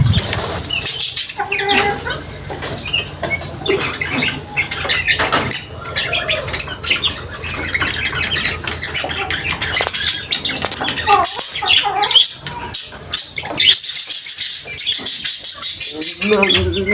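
Australian red-eye parrots in a cage with wings flapping in rustling bursts and occasional harsh squawks, close and fairly loud, with someone talking faintly at times.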